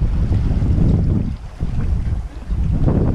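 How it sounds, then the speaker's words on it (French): Steady wind buffeting a sailboat at sea, broad low rumble with gusting swells, a brief lull midway as the wind eases, no voices. "Et le vent est en train de baisser."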